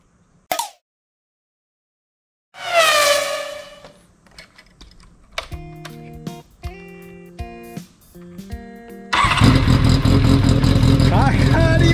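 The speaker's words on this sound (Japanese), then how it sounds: "さてこれで先週かからなかったエンジンがかかるか、" A Kawasaki Zephyr 400χ motorcycle engine that would not start the week before, tried again after refitting the air cleaner: a click and scattered tonal noises, then the engine bursts into loud, steady running for the last few seconds.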